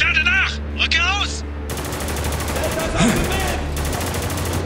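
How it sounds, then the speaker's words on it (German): Rapid machine gun fire bursts out in the video game Spec Ops: The Line, loud and sustained after someone speaks briefly at the start, with game sounds under the shots. "Ich liebe dieses Maschinengewehr."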